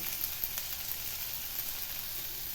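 Snake gourd and onion sauté in a little oil in a pan for a chutney. A soft, steady sizzle runs close and unbroken, with no talk.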